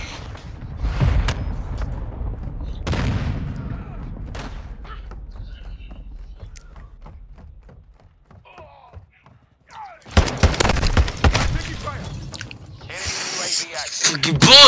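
Video game gunfire crackles in sharp bursts, with scattered shots early, a quieter stretch, then dense rapid firing near the end.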